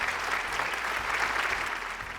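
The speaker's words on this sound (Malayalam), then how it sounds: "നല്ലൊരു കൈയ്യടി കൊടുത്തേ" Studio audience applause on a Malayalam TV game show, a steady dense wash of clapping held at even loudness for the full stretch without pause.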